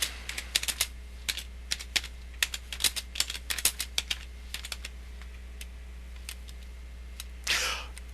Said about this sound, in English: As you may have heard, I hit the space bar quite a few times there.